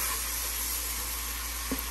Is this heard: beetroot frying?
yes